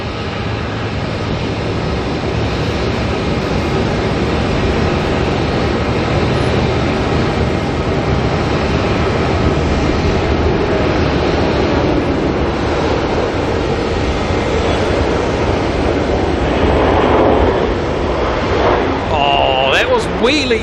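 A China Eastern airliner landing at Auckland Airport, a continuous loud rumble and rush of engine and airflow that stays dense and steady before a brief shift in tone near the end.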